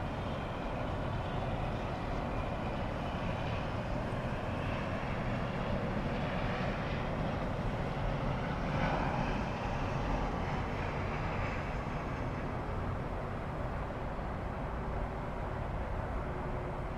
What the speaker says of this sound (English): we see a Southwest 737, could be an 800 coming in here for runway